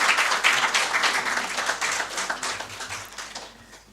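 A round of applause for Ghana's President Mahama at a formal report presentation on a national economic dialogue, dense clapping from a seated audience that stays steady and gradually thins out toward the end.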